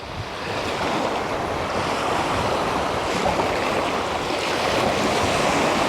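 Ocean waves wash in around the boots of someone standing in the surf at sunrise, a loud continuous roar of water mixed with wind buffeting the microphone, with no speech.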